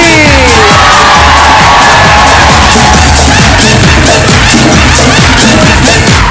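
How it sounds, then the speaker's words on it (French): A large live audience at a Brussels variety show cheers, whoops and shouts continuously, loud and dense throughout with rapid clapping mixed in. "Et enfin, applaudissez"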